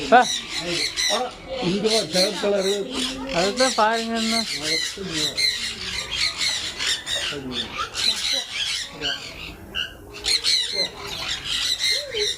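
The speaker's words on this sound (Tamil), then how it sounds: "இங்கே ஒரு அமேசான் பேரட்டு" Amazon parrot at a farm-style bird park in Chavakkad, Kerala, giving repeated harsh squawks and shrill calls close by, with a person talking over and between the calls.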